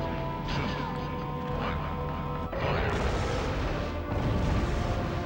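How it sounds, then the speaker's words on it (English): Gunfire in the Resident Evil 3 video game, several loud sharp blasts and crashing impacts spread over a few seconds, with a dense game soundscape underneath. "Fire the gun!"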